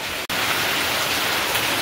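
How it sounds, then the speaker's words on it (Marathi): Heavy rain pours down outside during a sudden Goan summer downpour, a dense, loud, unbroken hiss that cuts out for an instant near the start and then carries on evenly, with no voices. "तर हे बघा, इकडं पाऊस चालू आहे,"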